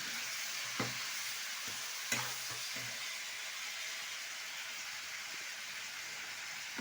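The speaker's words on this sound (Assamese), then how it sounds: "এতিয়া লৰাই আছোঁ ভালদৰে।" Chicken frying in a pan with onions, bay leaf, cinnamon, cardamom and cloves, a soft steady sizzle with a few scraping stir strokes near the start, fairly quiet and close, with no talking.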